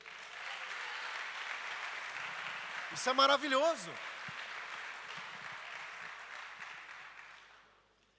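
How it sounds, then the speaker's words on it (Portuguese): A church congregation applauds steadily for several seconds, while a voice briefly speaks over the middle of the clapping before it fades out at the end. "Você pode aplaudir Ele?"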